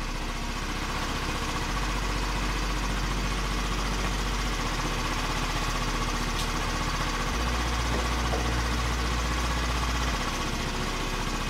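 A Tomos Nitro 50 scooter engine idling after restoration, a steady low puttering drone with a slight rhythmic pulse, close and continuous, with no talking.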